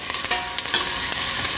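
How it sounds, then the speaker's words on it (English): Chicken pieces sizzle and fry steadily in a Dutch oven, a continuous close crackling hiss with occasional stirring scrapes and pops. "Love that sizzle."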